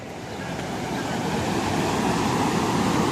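Strong stream in Arunachal Pradesh's Sangti Valley rushing over rocks, a loud continuous broadband roar of flowing water that swells slightly louder, heard close with no talk.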